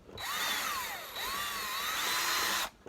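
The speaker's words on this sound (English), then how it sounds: "Let's drill through this thing." A power drill bores through a plastic refrigerator drawer in one continuous run of about two and a half seconds, its whine sliding up and down in pitch with a short dip partway through, close and loud with no talking.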